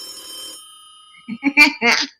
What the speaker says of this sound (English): I'm getting a phone call at 420.